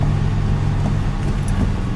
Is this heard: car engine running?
yes